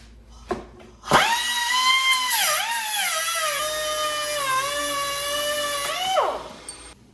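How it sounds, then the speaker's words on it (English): A small power tool cuts through threaded rod or a bolt, its high whine rising sharply, dipping and bending in pitch as it bites into the metal, then winding down after about five seconds. "It's a really slick and easy way to speed up cutting any sort of threaded rod or a bolt."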